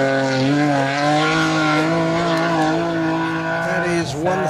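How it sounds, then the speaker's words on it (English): A BMW rally car on a special stage in Wervik roars in close, its engine holding a loud, steady high-revving note that rises and falls slightly as it approaches fast, with a brief dip near the end as it shifts. "we've got a BMW approaching fast"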